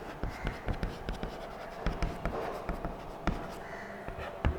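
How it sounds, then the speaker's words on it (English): Someone draws a flow chart by hand in a school lesson, with continuous scratchy pen-on-surface strokes broken by sharp little taps and pauses, close up and moderately loud. "now we can draw the ancient human life flow chart"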